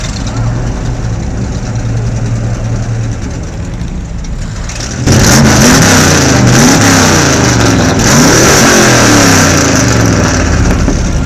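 A naturally aspirated Chevrolet Corvette C3 engine idles with a low, steady rumble, then is revved hard, rising into loud, rising and falling engine sweeps up close.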